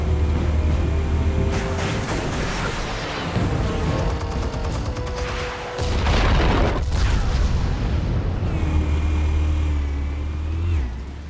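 Explosives detonate in a Batman video game as repeated deep booms and rumbling blasts over a dense score and effects mix, loud and continuous, with faint voice fragments.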